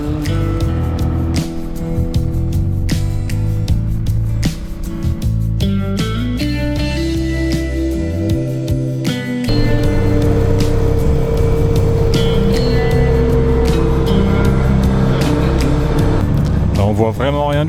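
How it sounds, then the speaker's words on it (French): Truck driving slowly on a snow-covered road, with continuous engine and rolling road noise heard from inside the cab while someone talks over it throughout. "je roule sur la neige avec le camion et ça a l'air d'aller"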